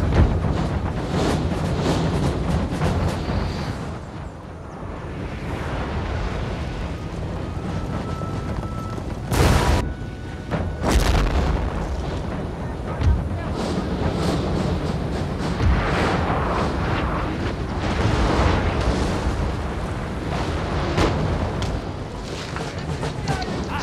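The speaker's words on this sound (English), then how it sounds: "Enemy artillery volleys coming in" Enemy artillery volleys land in Napoleon: Total War, Russian campaign, a dense, continuous battlefield roar with two sharp loud bursts of cannon fire mid-way, under occasional talk.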